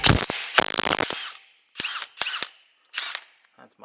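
A large Milwaukee impact gun rattles wheel nuts off a Nissan X-Trail T31 raised on a lift, in three close, loud hammering bursts, the first longest, separated by short pauses.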